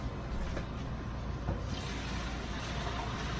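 Hot pasta water pours out of a cooking pot in a home kitchen, a steady, fairly close rushing splash of liquid that runs on without pause and without any talking.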